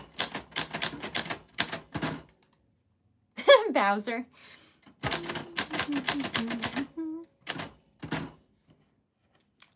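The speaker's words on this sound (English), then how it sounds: "I am typing everyone's names on a vintage typewriter for funsies" Names typed on a vintage typewriter, with bursts of sharp, rapid key strikes close by, alternating with someone talking between the runs of typing.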